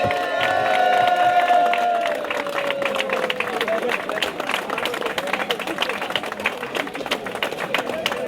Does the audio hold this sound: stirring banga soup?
no